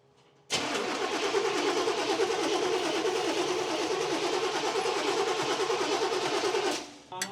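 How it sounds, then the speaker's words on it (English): A car engine sprayed with brake cleaner cranks and runs as one loud, steady roar for about six seconds, then cuts off abruptly, with no voices over it. "Hit it one more time, Joe. All right, hold on, let's get the jumper pack"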